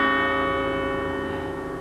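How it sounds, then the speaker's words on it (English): A doorbell ringing, one sustained bright chime tone fading slowly over two seconds, loud and alone. "Ring the bell."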